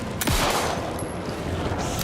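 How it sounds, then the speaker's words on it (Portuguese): Rapid bursts of gunfire in the video game Alan Wake 2 crackle and boom in a dense volley, loud and close, with sharp cracks scattered through a noisy, rumbling background. "Eu tô achando que tem que dar um tiro nisso aqui"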